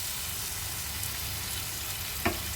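Spices are added to a hot pan while cooking a vegetable dish with dried lotte fish and whole garlic, giving a steady, soft sizzle of frying with a brief stirring scrape near the end.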